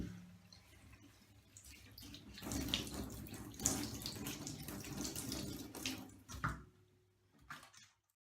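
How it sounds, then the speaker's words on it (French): Tap water runs steadily into a sink while synthetic wigs are rinsed of fabric softener, splashing and surging louder midway, then stopping with a few drips and squishes near the end. "je vais tout simplement les rincer pour être sûr qu'il reste plus d'adoucissant dedans"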